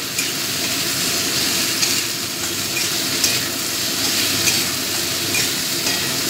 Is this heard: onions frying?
yes